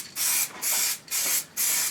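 Heavy wet coat of spray paint going onto motorcycle heat shields for a Triumph Scrambler in a garage: four sustained hissing bursts about a quarter-second apart, each with a brief pause between passes, close and steady.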